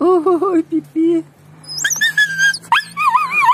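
Dog whimpering and yipping in short, high, wavering cries, close by and alternating with a voice calling to it.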